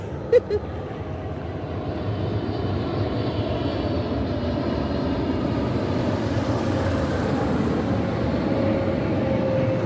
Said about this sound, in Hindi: कोई जहाज़ की आवाज़ आ रही है